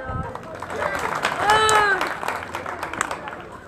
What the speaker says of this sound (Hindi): दो चार लोग और बजा दो ताली।